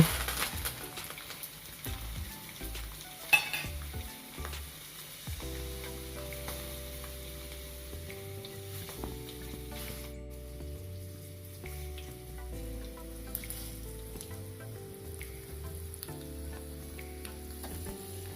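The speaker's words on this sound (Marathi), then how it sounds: "हे मिरचीचे तुकडे आणि कढीलिंब हे टाकल्यानंतर ही फोडणी तयार होते" Red chili pieces and curry leaves sizzle in hot oil for a tempering, a steady close crackling fry that continues throughout under faint background music.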